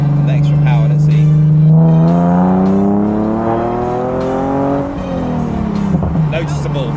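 A tuned Nissan 370Z NISMO with an added 30 horsepower accelerates hard, its engine note rising steadily and loudly in pitch for several seconds before dropping back and climbing again.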